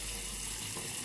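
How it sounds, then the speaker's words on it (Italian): Hot water runs from a tap in a steady, close, continuous hiss that holds briefly, with no talk. "Andiamo con l'acqua"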